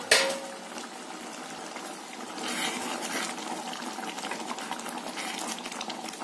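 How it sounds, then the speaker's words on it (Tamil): A pot of Tirunelveli sodhi kulambu, a coconut-milk curry, bubbling steadily on the stove, a continuous close hiss and simmer with no talking. "குழம்பு நல்லா கொதிச்சிட்டு இருக்கு."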